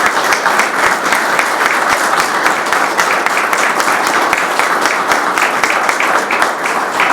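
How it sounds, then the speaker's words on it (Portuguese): An audience at a university library reading club claps warmly and steadily for a professor, with dense, sustained applause filling the whole stretch at an even level and no let-up. "Uma boa salva de palmas para o professor Alberto Pacheco."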